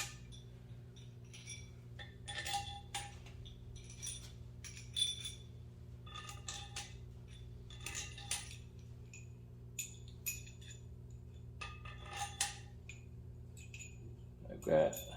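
Metal bolts for an AMC 258 engine long block clink and tap in small, light, sparse metallic touches while being handled. They sound near and faint, over a low steady hum.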